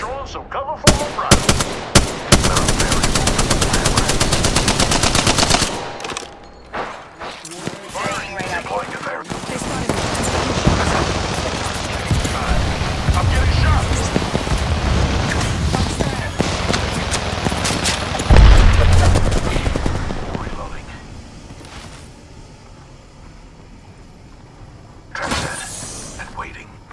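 Video game combat with rapid gunfire bursts and a heavy explosion from a grenade, loud and close, with shattering crashes and stretches of voices talking over the fighting before it fades near the end.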